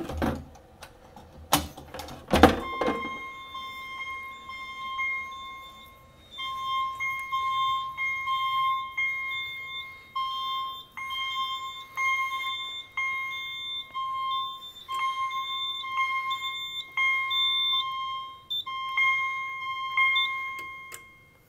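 A fire alarm sounds after a Kidde pull station is lifted and pulled on a Simplex 4010 panel: a sharp clatter of the pull station is followed by repeating electronic chime tones in a steady rhythmic pattern.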